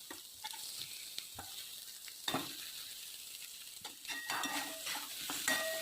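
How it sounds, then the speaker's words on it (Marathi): Boiled sweet potato is stir-fried with turmeric, coriander and salt, producing a quiet sizzle broken by intermittent scrapes and clinks of a spatula on the pan, growing busier toward the end with no speech. "तो चांगला परतून घ्यायचा. बटाटा चांगला परतून घ्यायचा"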